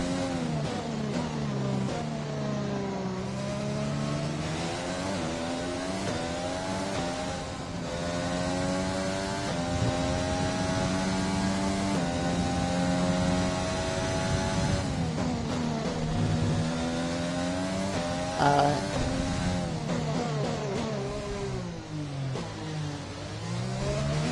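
In the F1 2020 video game, a Formula 1 car's engine screams up through the gears along a long straight at the USA circuit, with loud, sustained rising whines and brief dips at each shift.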